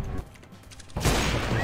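Gunfire in a shooting video game erupts as a loud, dense burst of shots in the second half, after a quieter stretch with a few faint pops, while a player talks.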